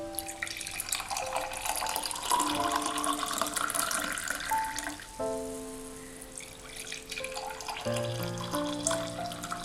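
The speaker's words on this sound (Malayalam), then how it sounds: "ഇനി ഇത് നമുക്കൊരു സെർവിങ് ഗ്ലാസ്സിലേക്ക് മാറ്റാം." Warm Ayurvedic kadha is poured into a serving glass in a continuous, quiet trickle and splash whose tone shifts as the glass fills, with a brief lull partway through and no talking.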